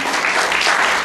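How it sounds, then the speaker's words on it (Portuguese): Audience applause for Graça Garcia, a musician honored at a samba event in a church setting, steady dense clapping throughout, fairly loud and close. "Então peço uma salva de palmas à Graça."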